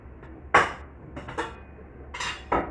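A metal cooking pot clanks and knocks several times in irregular bursts, close by in an otherwise quiet room.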